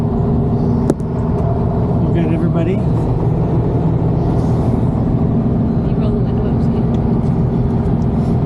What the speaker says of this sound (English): All right, well there we are, driving the car